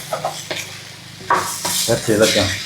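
Eggs being mixed into momos dough in a home kitchen, heard as wet stirring and scraping with clinks of a utensil against a bowl, in short irregular bursts close by, with a voice briefly in the background.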